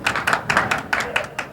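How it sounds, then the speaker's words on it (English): A studio audience at a televised doubles bowling show gives brief applause, with separate hand claps coming in a loose, uneven rhythm at close range. "This applause is for you."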